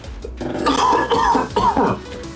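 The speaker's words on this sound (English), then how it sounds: "at some point I'm hoping to get rid of this damn cough" A man coughs and clears his throat in a few harsh, close bursts over about two seconds, with no talk around them.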